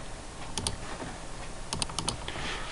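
Computer keyboard keys tapped in short quick bursts of clicks, close up over a steady background hiss, with no voices.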